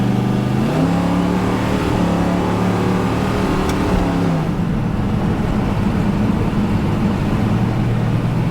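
A 1969 Plymouth Road Runner V8 rumbles steadily, its pitch rising as it revs, then settling into a deep, loud acceleration drone close by.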